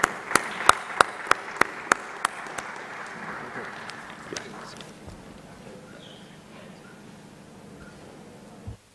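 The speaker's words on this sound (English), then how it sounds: "Please join me in applauding." Conference audience at a geopolitics event applauding; a few sharp, loud claps stand out in the first two seconds, then the clapping thins and fades into a quiet room murmur for the rest of the clip.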